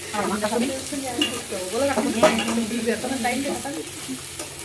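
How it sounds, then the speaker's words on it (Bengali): Oil heats and starts frying in a kadai wok for chicken, a soft continuous sizzle with light stirring, overlaid by wavering voice-like tones in the background. "কড়াই তেল গরম হচ্ছে"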